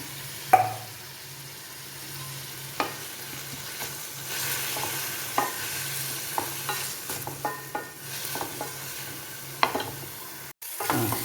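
Sliced onions and tomatoes sauté in a pan for egg roast, a soft continuous sizzle punctuated by scattered scrapes and knocks of a spoon stirring, close and fairly quiet with no voices.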